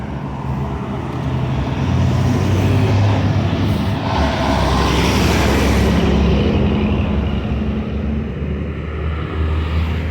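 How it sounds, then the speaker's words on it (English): Cars driving past on a street in El Salvador, a loud, steady roar of traffic and engines swelling as vehicles pass close by, with no talking. "these cars coming through like they bold"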